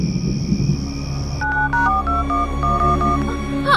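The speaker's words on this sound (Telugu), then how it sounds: "ఫోన్ అదే డయల్ అవుతుంది." A telephone dials on its own in a film scene: a high steady tone gives way to a run of short touch-tone beeps, close and clear, with a faint low background murmur.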